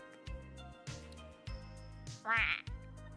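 A voice imitates Donald Duck, with one raspy, nasal quacking burst over a looping background music bed, near and fairly loud.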